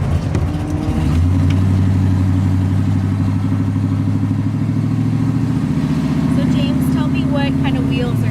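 1932 Ford sedan engine starting up and running at a steady, rumbling idle close by, with a slight rise in revs, while voices talk over it.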